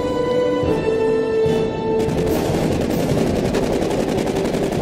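Rapid automatic gunfire in Aliens: Colonial Marines, a dense, loud, continuous stream of shots over a humming game background, becoming sharper and more intense partway through.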